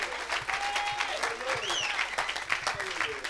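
A church congregation claps in steady, close applause that runs the whole time, mixed with cheers and a preacher's voice.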